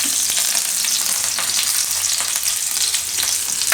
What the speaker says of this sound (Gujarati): તેલ આપણું ગરમ થઈ ગયું છે, એમાં પહેલાં મરચાં નાખીશું